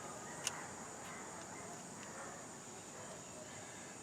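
Crickets chirp at night in a faint, steady high trill that runs unbroken in the background, with one soft click near the start and no voices.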